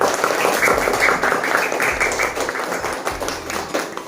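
A group of children claps for a classmate in a classroom Qur'an lesson, a dense, steady patter of many small hands sustained for about four seconds.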